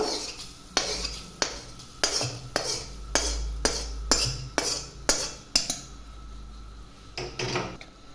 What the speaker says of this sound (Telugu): ఈ విధంగా వేసుకొని అయితే బాగా కలుపుకోవాలండి